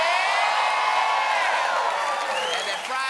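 Studio audience at The Late Show cheering and whooping, a loud, dense crowd roar sustained throughout with no pauses.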